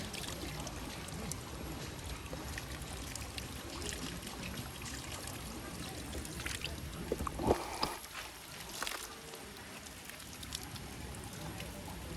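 Water splashing and pouring at Lihonjar waterfall in Karbi Anglong, a steady broadband wash of falling water with a few louder splashes near the middle, no speech.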